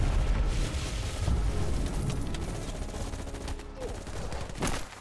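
Sustained gunfire and booming blasts of a firefight against a Viet Cong attack in Call of Duty: Black Ops Cold War, a dense, loud barrage running throughout with a sharper burst near the end.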